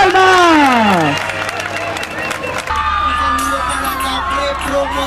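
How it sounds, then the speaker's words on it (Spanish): A crowd at an evening public event in Ventanilla claps and cheers loudly, with whoops and shouts rising over a strong announcer's voice at first, then steady dense applause continuing. "¡Fuerte las palmas!"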